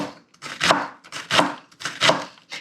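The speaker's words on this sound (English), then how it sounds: "You can tell I'm kind of cutting things into bigger pieces than I often do." A knife chops onions into chunky pieces on a board for turkey butternut squash chili, giving a close series of irregular, crisp cutting strokes in small bursts, with short pauses between them.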